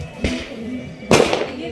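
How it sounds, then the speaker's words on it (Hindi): Two sharp firecracker bangs crack out at a Himachali wedding, one faint and one louder a second later, each with a short tail of crackle. "ये तो पटाखे कर रहे हैं।"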